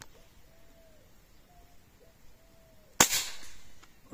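A single Hatsan PCP air rifle shot, a sharp, loud crack near the end that follows a quiet stretch with faint bird chirps in the background.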